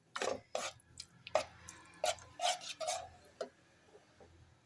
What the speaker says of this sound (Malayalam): അപ്പോൾ നമ്മൾ ചൗവരി ഇട്ട് ഒന്ന് ഇളക്കി കൊടുക്കുക